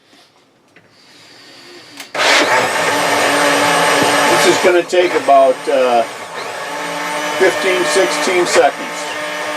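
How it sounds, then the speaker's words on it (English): A blender whirs loudly as it mixes a Shakeology shake, starting after about two seconds and running steadily with slight pitch wobbles, while someone speaks briefly near the start. "Okay, put your top on your blender."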